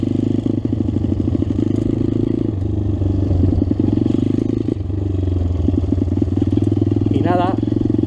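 A cold motocross bike engine, a Yamaha YZ 125 or Rebel Master, runs loud and close with a steady buzzing two-stroke drone, small rev changes and some scraping clatter, and a voice speaks briefly over it.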